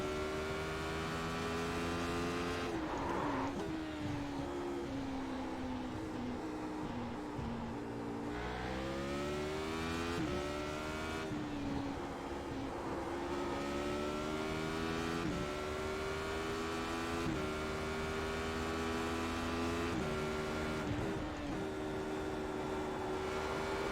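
A Radical prototype race car with a tube frame and two Hayabusa motorcycle engines, driven in iRacing at Spa, screams loudly and continuously, its pitch climbing through the revs and dropping sharply at each gear change.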